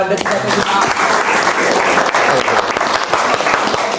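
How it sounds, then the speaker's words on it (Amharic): A crowd at a festive holiday program gives a warm, loud round of applause for the winner, with steady clapping throughout and voices mixed in. "ለወንድማችን ደስታ በጣም ሞቅ ያለ ጭብጨባ"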